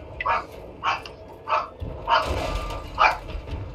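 A dog barks indoors in a string of about five sharp, evenly spaced barks, fairly close and loud, over faint background hum.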